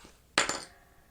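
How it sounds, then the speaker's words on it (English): An awl punches through a travel journal's cover in one sharp, close strike with a brief second knock, then quiet. "I'm going to take my awl and I'm going to just poke a hole right there"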